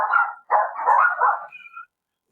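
Dogs barking in a few close, loud bursts with short gaps, each bark with a slight whining edge, ending in a thin higher yelp, with no talking.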